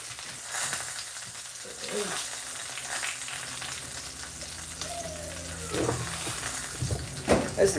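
Chicken rib eye steaks fry in melted butter in a pan with a continuous crackling sizzle, broken by occasional pops and soft scrapes of stirring, moderately close, with a faint voice now and then.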